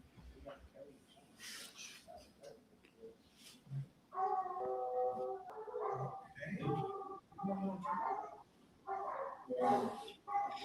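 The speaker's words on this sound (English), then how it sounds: "And the dogs are working fairly close." Hunting dogs baying and howling while working a scent at a field trial competition, with drawn-out cries rising and falling at a middle distance, often mixed with someone commentating.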